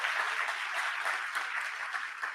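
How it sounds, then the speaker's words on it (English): Warm applause from a gala audience honoring the move makers, a steady wash of many hands clapping at moderate distance, continuous and fairly soft throughout. "let's give a warm clap for all of the move makers"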